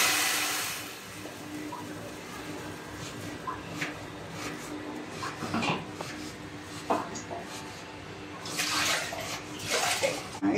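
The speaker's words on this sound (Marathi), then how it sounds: "याच्यामध्ये पाणी टाकत आहे" Water is poured into a cooking pot of tomato saar: close splashing bursts and trickling over a low background, with scattered clinks and faint kitchen noise.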